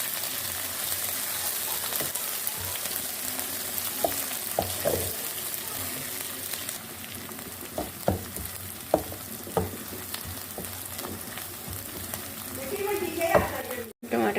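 Onion, garlic, ginger, curry leaves and green chilies sizzle in a pan for chana dal, with soft frying hiss, occasional stirring clinks and scrapes, and a louder clatter of handling near the end.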